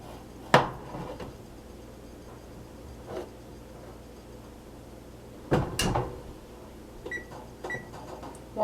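A metal pan clanks and rattles inside a baking oven, with two separate bursts of clatter and a few light knocks in between, close and fairly loud against a quiet kitchen.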